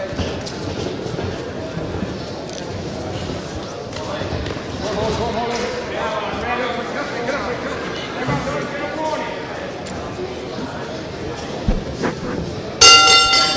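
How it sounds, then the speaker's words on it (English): At a boxing match, a ring bell clangs near the end to mark the round, ringing out sharply over a steady wash of crowd noise and an announcer talking. "There's the bell for round 2."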